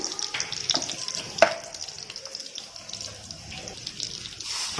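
Cumin seeds and mustard seeds fry in hot oil for an Andhra potato cauliflower fry, making a fairly quiet, crackly sizzle with scattered pops and a few sharper clicks of a spoon.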